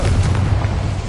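A Confringo fire-blast spell goes off in a Harry Potter video game, a dense, continuous booming roar with heavy low rumble lasting about a second, loud and alone.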